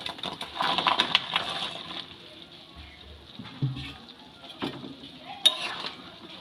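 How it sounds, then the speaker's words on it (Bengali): Fried soybeans stirred into boiling gravy in a pan for chilli soyabean, soft scraping and clinking of a spoon against the pan with a faint bubbling simmer, close and fairly quiet. "সোয়াবিনগুলো দিয়ে খুব ভালো করে নেড়ে চেড়ে মিশিয়ে নেবো"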